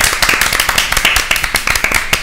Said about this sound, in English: Should we give them a round of applause to close things off then?